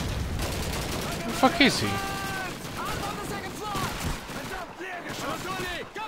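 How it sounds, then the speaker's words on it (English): Rapid bursts of gunfire in the Call of Duty 2 war game crackle in a dense, continuous clatter, with a loud shot partway through and a man cursing over the shooting. "as I'm firing the gun"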